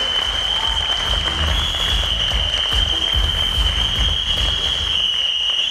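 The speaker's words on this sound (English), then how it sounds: "let's put your hands in the air and let's have an applause for everybody who tried it" Sustained applause from a large audience at a retail awards ceremony, a dense steady wash of clapping that holds evenly throughout with a constant high tone running beneath it.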